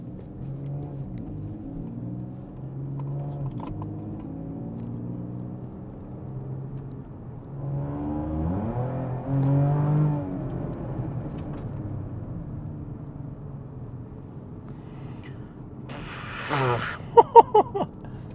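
A supercharged Audi A5 Sportback runs in quiet exhaust mode, giving a low, subdued engine hum that swells briefly as it revs midway, then settles, with a few sharp clicks near the end.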